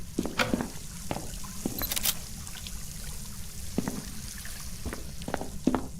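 Dirty water drips and trickles in a video game house, with scattered faint drops and small splashes over a steady low background hum, heard alone at moderate distance.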